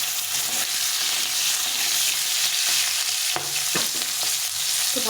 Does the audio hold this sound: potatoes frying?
yes